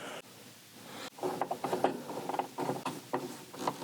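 A fitting being tightened down on an EG4 6000XP inverter installation, with a series of close, clicking ratchet and metal turns in quick irregular bursts after a brief pause.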